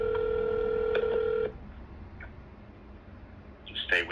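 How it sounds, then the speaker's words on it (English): Telephone line audio: a steady dial tone with short tick-like clicks for about a second and a half, then a faint, noisy line and a brief burst of higher tones near the end. "You're going to hear some ringing, okay?"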